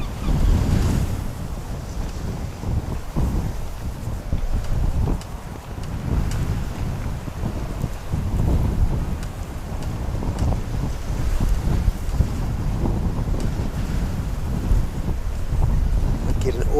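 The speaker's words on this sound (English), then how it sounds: "Get an awesome amount of wind." Strong wind roaring across the microphone by the sea near Wellington Airport, with surf washing underneath in a loud, continuous, gusting rush.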